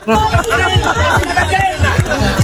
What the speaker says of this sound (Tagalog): Pakinggan nyo na lang yung hiyawan